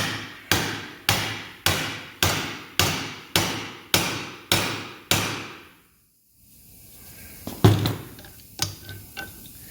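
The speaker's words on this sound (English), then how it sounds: "New bushings drive in the same way, just in kind of reverse order." New bushings are hammered into a farm drill with a bushing driver, nine evenly spaced heavy metallic blows ringing close by, then a pause and a few scattered clanks.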